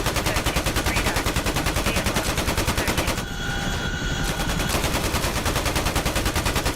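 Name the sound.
helicopter door gunners firing machine guns, from video game DCS World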